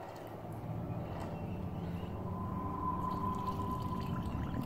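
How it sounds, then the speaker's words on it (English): Air bubbling up from the vented ballast tank of a restored US Gato-class RC submarine sitting at surface trim in water, a steady, continuous gurgling wash that holds at an even level throughout. "hear the bubbles, and you'll be able to see them here just momentarily as well, right by that rear deck gun."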